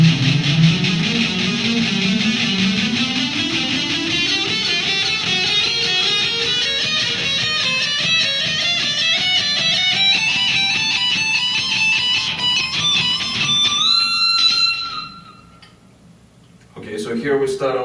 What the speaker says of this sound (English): And now we go into the very fast section pattern,